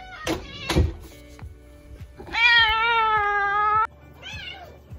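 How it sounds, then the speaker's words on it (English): A house cat meows outside a closed door, giving a few short calls and then one long drawn-out yowl, with a final brief meow, close and loud, alongside light thumps and knocks. "my parents' cat decides to meow outside my door"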